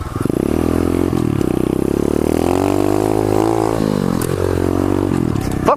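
A pit bike engine revving hard through a wheelie, loud and close, the buzzy tone climbing and dipping over several throttle blips with a little clatter near the end.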